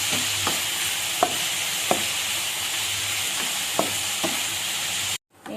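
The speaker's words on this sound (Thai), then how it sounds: "ผัดให้เข้ากันจ้า" Holy basil stir-fried with cauliflower in a pan produces a constant, close sizzle with a handful of sharp utensil taps spaced through it, then cuts off abruptly near the end.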